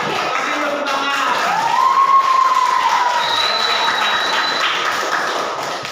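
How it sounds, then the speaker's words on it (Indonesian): A class applauds in a schoolroom with steady, dense clapping for several seconds, moderately loud, while a faint whistling tone rises and fades in the background. "kasih tepuk tangan"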